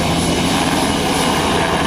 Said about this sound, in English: as the helicopter touches down, and this helicopter can go sideways, backwards, forwards